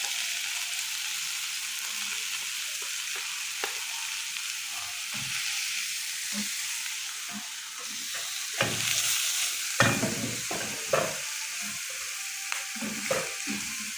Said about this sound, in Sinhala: මෙන්න යාළුවනේ මේ මස් ටික බැදගත්තා